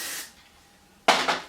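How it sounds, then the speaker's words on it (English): Hairspray hisses from a can onto hair extensions in two or three short bursts, close and crisp, with a quiet pause between the first burst and the rest. "Spray."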